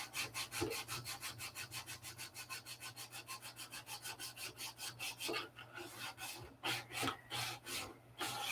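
Rubber polywog carding tool rubbing across wood at the workbench, a fast regular series of short scraping strokes, close and quiet, ending in a few slower, irregular swipes.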